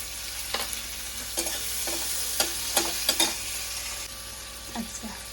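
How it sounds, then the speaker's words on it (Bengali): Bay leaves and chopped onion fry in oil for a prawn dopiaza, a soft constant sizzle broken by several sharp clinks and scrapes of stirring against the pan, close and unaccompanied by speech. "এবার তেজপাতা ফোড়ন, তেজপাতা আর পেঁয়াজ কুচি"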